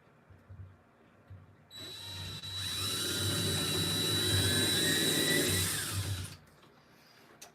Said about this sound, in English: all we're doing is setting a pilot hole